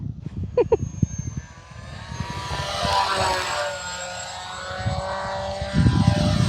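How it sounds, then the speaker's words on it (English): An FMS P-51D V2 800mm RC model plane runs on a 3S battery, its propeller whining at full throttle in a loud, sustained buzz that rises and shifts in pitch, with a few clicks at the start. "That prop sounds like it's about to blow up."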